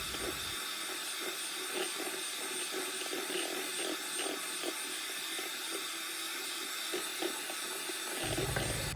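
An electric beater whips red velvet cake batter in a bowl, a loud steady high-pitched whir with faint rhythmic ticking that runs throughout.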